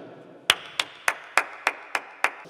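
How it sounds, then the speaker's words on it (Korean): Eight sharp hand claps at a steady, even beat, close and clear over a faint musical backing during a live songwriting session. "아 좋은데 잠깐 이거 박수 치고 갈 시간입니다"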